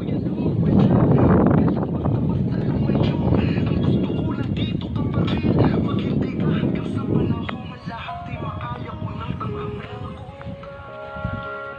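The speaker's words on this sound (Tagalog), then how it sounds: "Lakas ng hangin." Strong wind roars and buffets against the microphone in a constant low rumble throughout.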